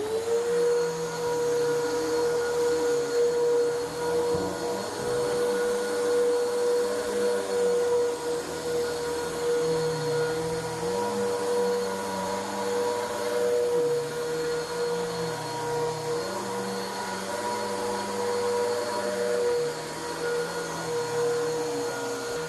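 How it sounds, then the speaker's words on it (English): A vacuum cleaner runs steadily through a house whose carpets hold a lot of dry soil. It gives a continuous, fairly close motor whine with a strong fixed tone, and the drone shifts slightly as it is pushed back and forth. "So let me vacuum the hallway and the loft."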